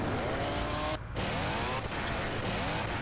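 Chainsaw in Left 4 Dead 2, a close, loud, buzzing two-stroke motor idling and revving with wavering pitch. It cuts out sharply for a moment, then roars back and runs continuously.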